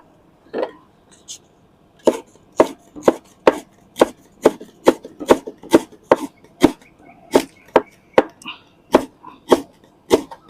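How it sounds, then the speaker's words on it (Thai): A knife finely shreds kaffir lime leaves for an Isan-style dipping sauce, about twenty sharp, close chops in an uneven steady rhythm, alone with no talk. "ตามด้วยใบมะกรูด ครับใบมะกรูด หั่นฝอย"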